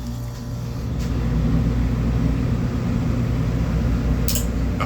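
The outdoor fan motor of a Magic Pak air conditioning unit runs with a loud, steady low hum and whir, close by, with a couple of faint clicks.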